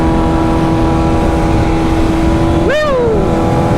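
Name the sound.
2025 BMW S1000RR motorcycle engine while riding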